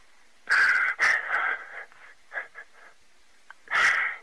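Heavy, wheezy breathing over a 911 phone call, close to the mic, a few loud rasping breaths with shorter ragged ones between, then another strong breath near the end.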